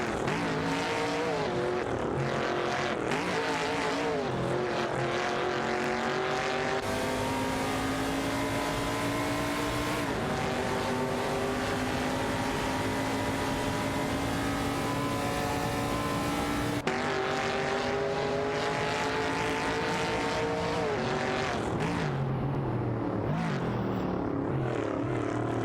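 A Chevrolet Monte Carlo and other race cars in a racing video game, loud sustained engine drones rising and falling in pitch as they layer and pass, continuous for the whole stretch with no talking.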